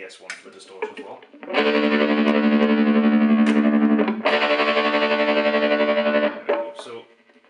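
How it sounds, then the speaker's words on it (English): Electric guitar played through a tremolo pedal into a DS-1 distortion, a loud, sustained, saturated chord held for several seconds, a brief break, then a second long distorted stretch that cuts off near the end. "Actually, we'll change to the DS1 for the distortion as well"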